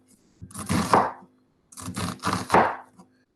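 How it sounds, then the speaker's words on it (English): A knife chopping through an onion on a board in two bursts of rapid, close cuts, each lasting about a second with a short pause between them. "And then I'm going to cut with my bear claw"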